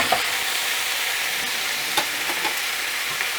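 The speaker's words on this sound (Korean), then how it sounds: "이렇게 조금 볶다가 준비한 양파 반 개를 넣어주시고요. 양파가 투명해질 때까지 볶을 거예요." Korean zucchini and half an onion stir-fry over high heat in a pan, making a steady, close sizzle broken by a few light clicks of the spatula, with no talking.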